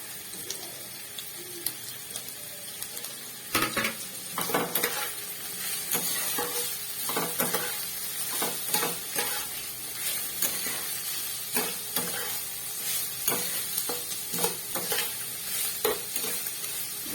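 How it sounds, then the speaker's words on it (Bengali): Carrots fry with onion and capsicum for chowmein, a constant hissing sizzle broken by frequent, rhythmic scrapes and clacks of a spatula stirring the pan. "গাজরগুলো একটু ভাজা হয়ে যাবে।"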